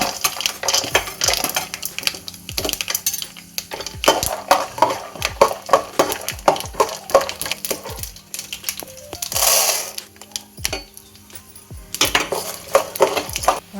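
Mustard seeds and peanuts drop into hot oil in a pan, giving close, irregular clattering, popping and metallic clinks throughout, with a brief hiss around the middle.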